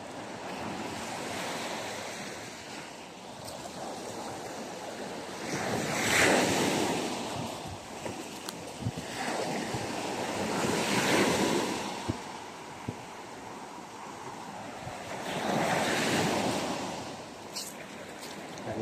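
Creek water flows steadily, with a constant wash that swells and eases in slow surges, heard close with some wind noise and no talking.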